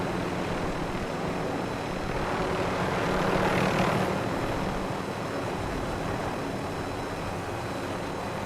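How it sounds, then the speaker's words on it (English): A video-game helicopter drones steadily in the distance, its rotor and engine noise swelling briefly midway before settling back to a constant hum, with no voices over it. "There's another helicopter chasing Papa."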